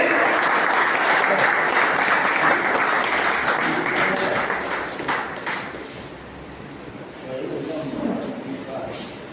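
A crowd at a farmers' training event gives loud, sustained applause to welcome a speaker, then the clapping thins out and a voice begins speaking over the last scattered claps.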